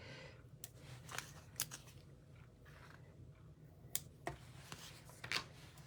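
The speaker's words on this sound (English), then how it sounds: "give them a little cut." Scissors cutting small pieces of paper card for a craft kit, a handful of quick close snips spaced irregularly over a quiet background, no talk.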